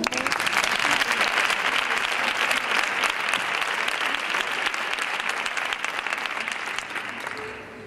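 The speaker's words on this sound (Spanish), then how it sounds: "Un aplauso para ella" Audience applause at a panel session honoring an award-winning school coexistence project, loud and sustained dense clapping throughout that eases only slightly at the close.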